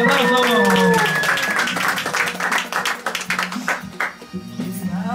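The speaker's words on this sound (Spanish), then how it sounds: "El aplauso." A small family birthday gathering claps, a loose patter of nearby hands that starts after a voice and carries on unevenly, with some talk mixed in early on.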